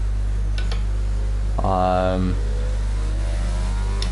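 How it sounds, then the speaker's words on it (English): An F1 car's engine suffering a mechanical failure in the F1 22 racing game: a steady low drone throughout, broken midway by a short, loud, rising harmonic whine that then drops back. "So I'm gonna have to drive around until the engine lets go"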